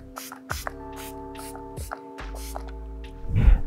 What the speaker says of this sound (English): To set the makeup, I'm going to have some setting spray from Lancome.